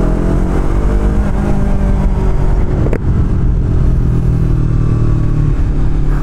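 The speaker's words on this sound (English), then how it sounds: "So now when you blip that throttle, you really hear it." A Yamaha R3 motorcycle with a slip-on exhaust revs loudly and close, its deep exhaust note rising and falling with a quick throttle blip midway.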